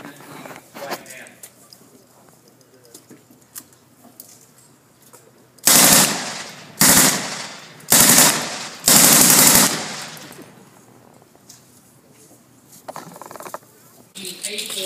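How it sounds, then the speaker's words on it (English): An air-cooled Browning M1919A4 light machine gun from World War II fires four loud, close bursts of rapid automatic fire in quick succession, separated by short pauses, with quiet talk before and after. "A4 Browning air-cooled light machine gun."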